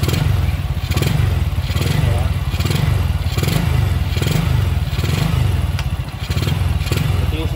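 A motorcycle engine idles and chugs loudly nearby with a steady, pulsing rumble, punctuated by a few clanks and rattles.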